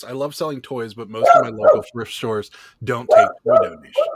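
A pet dog barks and yips in short bursts somewhere in the room, mixed under steady conversational speech from a person talking over it.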